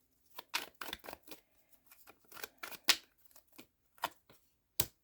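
Tarot cards being shuffled by hand, irregular papery riffles and slides in short bursts with quiet gaps between, close and fairly faint.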